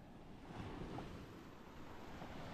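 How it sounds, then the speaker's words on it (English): Sea waves washing onto the sand at Makronissos Beach, a soft continuous surf wash mixed with wind buffeting the microphone, fairly faint and steady with no voices. "It looks so tempting to play with the waves."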